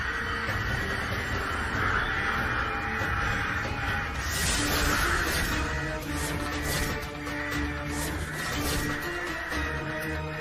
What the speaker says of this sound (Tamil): அதான் மொத்த காக்கெல்லாம் கத்திக்கிட்டு இருக்கு